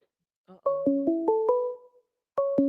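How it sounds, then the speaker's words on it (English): An incoming call rings on a telephone in a radio studio, giving a short melodic ringtone of stepped electronic tones, a brief pause, then the melody starting again, moderately loud with no talk over it. "whoa, hey, we got a phone call."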